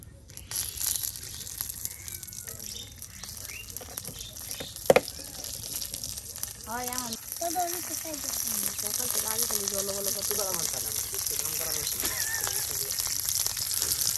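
Onion, garlic and green chilies fry together on a hot griddle with a steady sizzle and crackle, a sharp clatter near the middle, and a voice talking over it.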